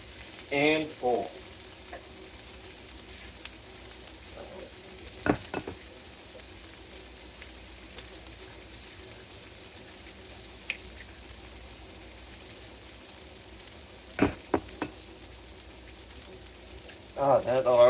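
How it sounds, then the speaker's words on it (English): Steak frying in a pan during omelette preparation gives a steady, even sizzle throughout, with a few sharp utensil clicks and brief scraping stirs close by, without talk. "That steak is cooking."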